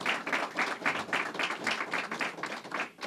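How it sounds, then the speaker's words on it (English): Audience applauding the mayor at a public event in Oswego, a steady, moderately loud wash of many hands clapping with a slightly pulsing texture throughout. "let's give the mayor a big round of applause"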